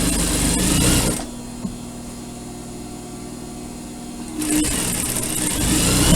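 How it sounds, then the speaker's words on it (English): Sewing machine stitching a cotton surgical scrub cap: a steady mechanical whir runs throughout, louder and brighter at the start and end with a quieter, smoother stretch in the middle. "So you continue sewing"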